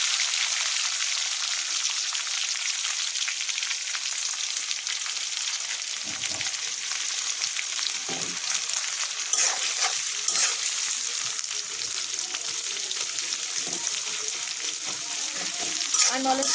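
Onion fries in hot oil with chilli in a pan for cabbage bhaji, a close, continuous crackling sizzle, occasionally stirred with soft scraping and clinks, with no one talking.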